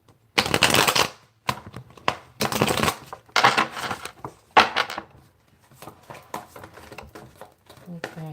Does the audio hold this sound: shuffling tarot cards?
yes